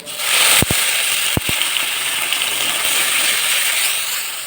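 A tomato and garlic masala paste dropped into hot oil, erupting into a loud, steady sizzle with a couple of sharp clanks of a utensil early on, fading slightly toward the end.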